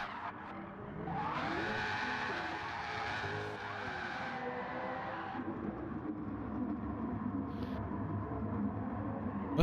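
A race car in a racing video game spins out, its tires skidding and squealing loudly over a steady engine roar for several seconds, then easing into a rougher, lower rumble.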